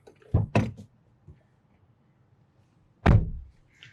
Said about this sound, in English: Nice, solid door closing.